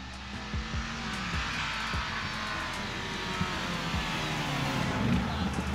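A Mercedes AMG G63 and a Ford Bronco race side by side, a broad continuous engine roar at moderate distance with occasional thumps and a rising surge near the end, faint voices beneath.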